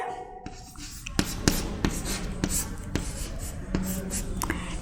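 Chalk tapping and scraping on a board during a physics lecture on superposition of waves, with a series of sharp taps and strokes and faint room noise in between.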